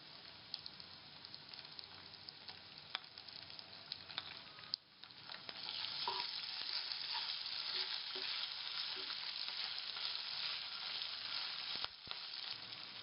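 Fried onions sizzling in a pan as ginger and garlic paste go in for a potato chicken curry, a quiet crackle that swells into a loud, steady hiss after the paste is added, with a few stirring scrapes.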